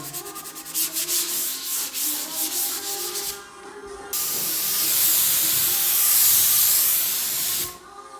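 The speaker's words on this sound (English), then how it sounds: "so we'll give it a bit more sanding" Steady abrasive rasping of sanding wooden stairs, pulsing in short strokes at first, then a longer continuous hissing stretch that stops abruptly near the end.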